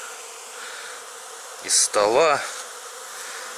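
Steady buzzing of honey bees cleaning leftover honey from a honey extractor fills the background throughout, with a brief spoken phrase rising over it midway.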